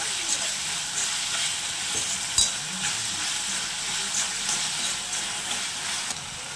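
Onions with ginger-garlic paste sauté in a pan for an egg and chicken curry, a steady close sizzle with scattered scraping stir strokes and one sharp clack near the middle, no voices.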